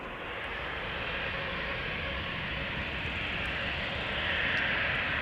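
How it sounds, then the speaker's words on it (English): KLM Boeing 777 "Orange Pride" airliner arriving at Amsterdam Schiphol from Panama City, a broad steady jet roar swelling slightly as it approaches, heard alone without voices. "KLM Orange Pride arriving from Panama City."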